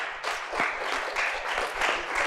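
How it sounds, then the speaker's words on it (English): A crowd at a podcast's 50th-episode event claps for the contestants, steady broadband applause with scattered individual claps, moderately distant and fairly even throughout. "give everybody a big round of applause there because we had some nice contestants"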